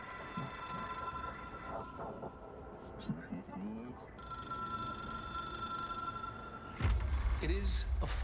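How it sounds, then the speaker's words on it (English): The Hotline telephone in the video game Control rings with a steady tonal bell that holds over several seconds, under talk and game sounds, before a loud rumbling burst near the end. "It is a phone."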